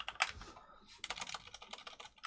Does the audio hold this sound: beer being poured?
no